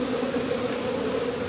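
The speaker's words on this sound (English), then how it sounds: "Shake those bees off." Honey bees buzzing around an open hive in an Australian bee yard, a steady, close, droning hum with no talk.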